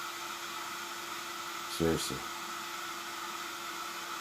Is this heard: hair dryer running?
yes